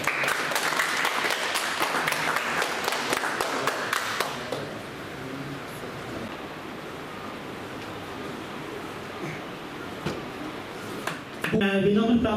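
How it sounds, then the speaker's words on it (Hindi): Loud, dense audience applause at a Rajput Sabha Chamba ceremony for Maharana Pratap's birth anniversary, strong for about four seconds, then thinning to a softer, scattered patter that carries on to the end. "जोरदार तालियां"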